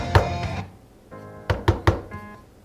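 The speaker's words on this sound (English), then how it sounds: "I knock on the back," Several knuckle knocks on the back of an iPod, a few soft thunks and then a quick run of three sharper taps, close and fairly loud with no talking.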